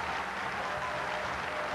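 Audience at a 2002 BFL All-American bass fishing tournament weigh-in on Cross Lake applauding an angler, a brief continuous burst of clapping from a crowd, steady and unbroken.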